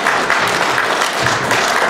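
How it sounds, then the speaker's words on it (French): A church congregation applauds together at a consecration service, a dense, steady wash of hand claps that fills the room without pause. "Là, c'est le temps d'applaudir."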